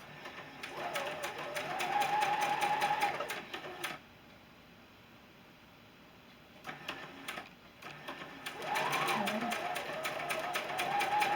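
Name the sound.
sewing machine stitching quilt squares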